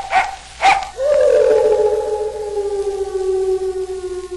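An old hound dog gives two sharp barks, then a long howl that slides downward and holds for several seconds, loud and close.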